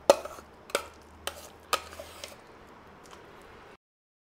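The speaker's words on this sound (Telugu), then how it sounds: "దీన్ని మొత్తం ఇందులో వేసి కలుపుకోవాలి." A spoon scrapes and taps through ingredients in a pan, four or five distinct strokes at a slow, uneven rhythm, close and clear before falling silent.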